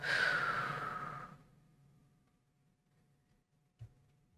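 A single deep breath drawn in close to the mic during a guided meditation, a long airy rush that swells and fades over about a second and a half, followed by near silence.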